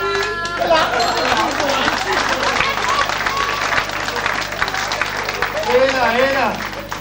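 A crowd claps at a Limburg carnival session, a steady, lively round of applause that runs for several seconds. Voices chatter and talk over the clapping throughout.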